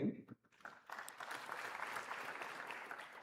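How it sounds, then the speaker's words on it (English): At a medical college white coat ceremony, a brief voice opens before a crowd breaks into steady applause, a dense, even wash of clapping heard from a distance that carries on to the end. "So a big round of applause for him."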